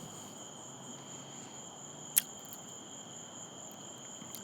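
Crickets chirp steadily in the background, two thin high-pitched tones trilling without pause at a fairly faint, distant level, broken once by a brief sharp click.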